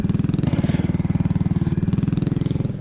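A motorcycle idles close by on a street in a Garifuna village in Honduras, its engine chugging in a loud, fast, steady pulse that stays even before easing slightly at the very end.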